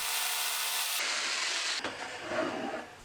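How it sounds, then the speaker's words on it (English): A jigsaw cuts through a wooden lap-desk panel, giving a loud, continuous rasping buzz that shifts in tone partway through as the blade works the cut, with no talking. "I used a jigsaw to cut out the area in between the holes."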